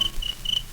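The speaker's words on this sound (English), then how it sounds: "Now, a cricket can chirp, and every time I chirp this very special chirp," A single cricket-like chirp repeats three times in quick succession, a thin high-pitched trill, clear and close over a faint background.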